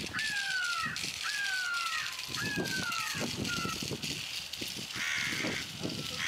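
Real crow cawing repeatedly, a series of harsh caws at steady intervals over constant outdoor ambience with wind-like noise, moderately close and clear.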